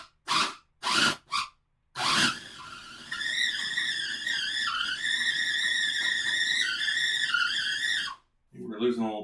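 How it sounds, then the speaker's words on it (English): A small electric grinder whirs steadily for about six seconds, a loud close motor drone with shifting pitch as powdered sugar is ground under a lid, with talk before and after. "Put the lid on and grind this up."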